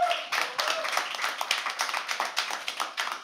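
An audience at a live poetry open mic gives a round of applause, with many hands clapping quickly and close by in a dense, even patter that keeps going to the end.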